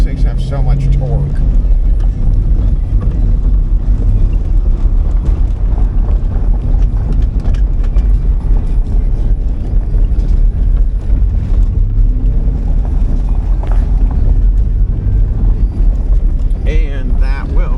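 A 2004 Chevrolet Corvette Z06 with a 5.7L LS6 V8 backs up in reverse at a wrecking yard, its steady low engine rumble running throughout with wind noise and people talking over it.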